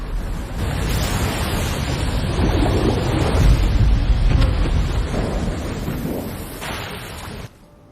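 Ocean surf on a Pacific island shore as a makeshift raft is launched past big waves, a loud broad roar of breaking water with wind buffeting, swelling in the middle and cutting off abruptly near the end.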